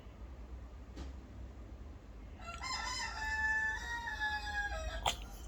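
A single rooster crows once, a long drawn-out call at moderate distance rising over a quiet rural background hum.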